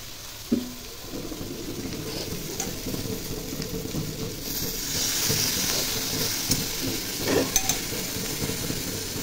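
Dried fish and prawn curry being sautéed in a pan, a steady close sizzle and hiss with scraping stir strokes throughout, growing a little louder midway, with a few sharper clatters.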